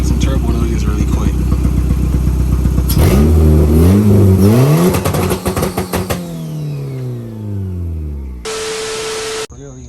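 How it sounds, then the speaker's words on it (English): Turbocharged Honda DC2 engine revving hard in repeated bursts, its pitch climbing and falling with each blip before settling toward idle, loud and close, followed by a brief steady high-pitched tone near the end. "Let's see if this thing makes some turbo noise really quick."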